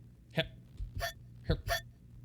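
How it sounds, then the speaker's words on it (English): A cat hiccups in the video game DoNOTTakeThisCatHome: four short, clear hiccup sounds in two quick pairs, close and fairly soft, with quiet gaps between them. "the cat continues to hiccup and coughing little bubbles to float out of its mouth"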